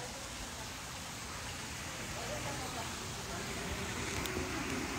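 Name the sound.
water fountain splashing behind the speaker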